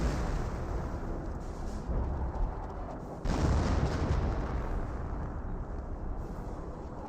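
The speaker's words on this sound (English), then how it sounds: "Rifle Grenadier does fire a grenade for the Pioneers" Rifle grenade blast in the World War II strategy game Company of Heroes, a dense, loud rumbling boom wash that swells sharply midway, layered over continuous battle noise with no gaps.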